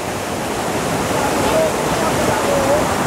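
Waterfall on Siquijor Island, Philippines, a steady, loud broadband rush of falling water filling the whole clip with no pauses.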